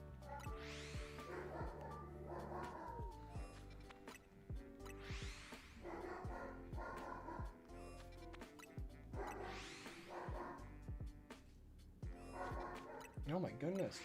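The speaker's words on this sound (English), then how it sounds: "It is a dog." A dog barks and yips in bursts, with whimpering in between, under game music and a person talking.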